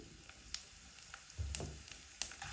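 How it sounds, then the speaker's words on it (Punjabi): Bay leaf, a piece of cinnamon, black cardamom and a spoonful of cumin fry in hot oil, making a faint, quiet sizzle with a few soft crackles and pops. "ਤੇਲ ਗਰਮ ਹੋ ਗਿਆ ਹੁਣ ਇਸ ਵਿੱਚ ਆਪਾਂ ਇੱਕ ਤੇਜ਼ ਪੱਤਾ ਇੱਕ ਟੁਕੜਾ ਦਾਲਚੀਨੀ ਇੱਕ ਵੱਡੀ ਇਲਾਇਚੀ ਇੱਕ ਚਮਚ ਜੀਰਾ ਪਾ ਦੇਵਾਂਗੇ"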